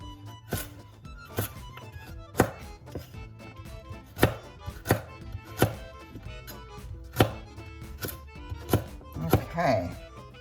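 A knife chops carrots for soup on a cutting board, giving a dozen or so sharp, evenly spaced thuds roughly once a second, close and clear, with faint rustling near the end.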